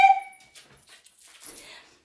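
A dog gives a single short yelp or whimper at the start, close and fairly clear, followed by quieter rustling and faint movement noise in a home setting.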